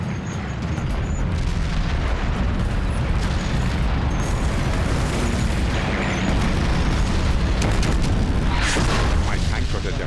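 A Russian artillery barrage rolls on without pause, with deep overlapping explosions and booms forming a loud, continuous rumble throughout.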